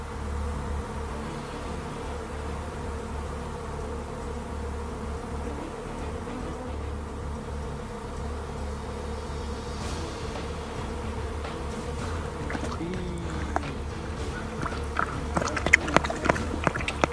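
Dense swarm of honey bees droning steadily around a hive, a continuous close buzz throughout with a few sharper knocks and rustles toward the end.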